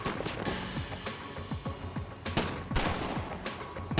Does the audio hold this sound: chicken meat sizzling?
no